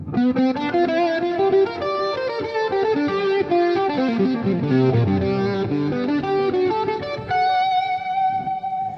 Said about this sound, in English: The picking I usually do is an upstroke picking, where the pick literally goes up from the pick guard.